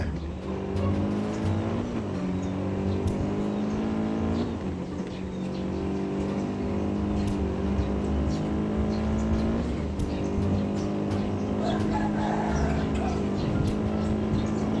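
BMW M5 (MS5 R) engine in the Drive Zone Online racing game, a steady loud drone with shifting revs and harmonics throughout, briefly dipping near the start and middle, with faint tire noise and a voice talking over it.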